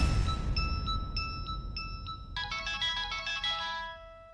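A mobile phone rings with an incoming call: a clear, repeating melodic electronic ringtone that starts as spaced tones and then shifts into a busier, chiming pattern, heard alone over a faint low room hum.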